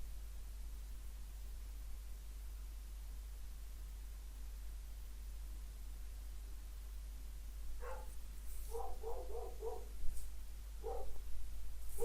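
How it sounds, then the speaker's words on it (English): A dog barks a few times in the distance, short faint yaps breaking through a steady hiss of background noise. "What's got a barking dog?"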